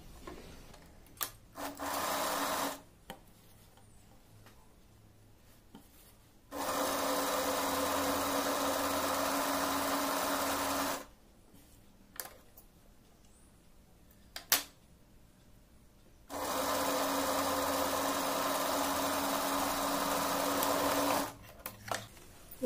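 A sewing machine stitches together pieces cut from an old plain shawl, running in three steady bursts of a few seconds each with quiet pauses and small handling clicks between runs, close and fairly loud.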